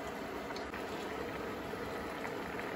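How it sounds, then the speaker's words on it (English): Leftover turkey Chinese curry simmers in a pot, giving a faint, continuous bubbling hiss that runs steadily and quietly throughout. "we'll turn it down so it has a bit of a simmer"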